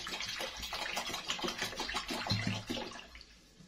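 Two liters of milk pour steadily into a cooking pot for rice pudding, making a continuous splashing, gurgling liquid sound that is fairly faint and close.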